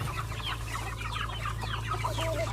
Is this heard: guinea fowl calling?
yes